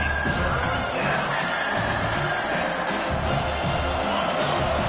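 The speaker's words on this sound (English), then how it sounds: "Decibels rising as the crowd gets behind this defense on third down." Football stadium crowd cheering loudly behind the defense on third down, a dense, continuous roar with whoops and yells, rising and sustained throughout.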